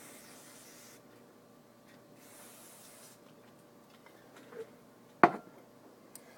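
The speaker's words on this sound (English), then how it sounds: "we'll get to cleaning the plastic choke arm, and I'll just do that with my carburetor cleaner" Carburetor cleaner is sprayed onto the plastic choke arm of a Honda ATC 200s carburetor in two short, faint hissing bursts, followed by quiet handling noises and a single sharp click.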